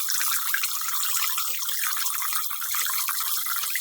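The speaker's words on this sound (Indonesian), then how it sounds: "Keran air yang mengalir dalam bak mandi" A water tap runs into a bathtub with a steady, close rushing splash that holds at an even level throughout, with no voices.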